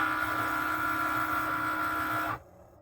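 A Cricut Maker engraving a metal bracelet gives off a steady, loud mechanical whir with a high tonal hum. It runs unbroken for over two seconds and then cuts off abruptly.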